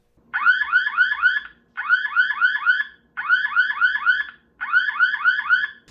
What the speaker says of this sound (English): it'll go ahead and make an alarm sound